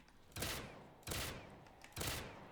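Gunfire from a two-round burst weapon in Call of Duty Black Ops 3 custom zombies mode. Three loud, sharp bursts come at roughly even intervals over a quiet game background.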